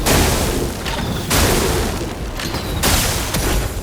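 A Sakapat explosion attack in the video game Clair Obscur: Expedition 33 sets off repeated loud booming blasts, about three heavy bursts in quick succession with crackling debris between them, with no talking.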